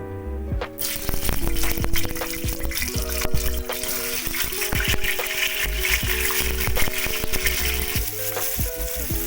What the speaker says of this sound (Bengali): কড়াতে সাদা তেল বসিয়ে দিয়েছি, সেটা গরম হয়ে গেছে। এর মধ্যে আমি একটু আলু দিয়ে দিলাম, নতুন আলু।